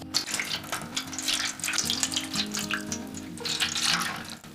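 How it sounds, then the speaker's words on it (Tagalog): Water is poured into a baking tray, making a continuous splashing, trickling rush up close with surges in intensity, heard alone without talk. "lalagyan natin ng tubig ang asadera"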